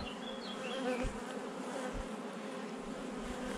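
A steady swarm of bees buzzes close around a beehive holding too much honey, a continuous insect drone with a few soft thumps and no voices.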